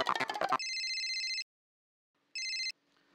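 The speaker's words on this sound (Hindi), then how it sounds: "अभी टप्पू के पापा को फोन करती हूँ" A telephone rings in a household scene from a TV sitcom: two clean electronic ring bursts, the first longer than the second, close and clear after a short burst of sound at the start.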